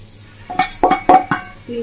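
Sweet pitha filling is stirred in a wok, a metal spatula clanking and scraping against the pan in several close, uneven knocks while a voice speaks over it.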